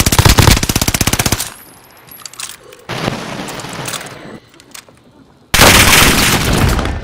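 Rapid automatic gunfire bursts in Call of Duty: Modern Warfare, loud and close, with a crackling rattle cutting off into quieter gaps before another heavy burst resumes near the end.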